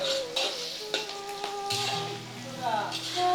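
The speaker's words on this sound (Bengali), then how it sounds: "এখন দিয়ে দিতেছি তিনটা আস্ত পেঁয়াজ" Three whole onions going into a pot of frying onions for mutton curry, with a steady close sizzle, some stirring and clinks from the pot, and a voice speaking briefly over it.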